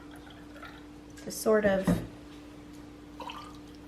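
White grape juice, about an ounce, is poured into a holiday cocktail, producing faint trickling and dripping while a person talks over it.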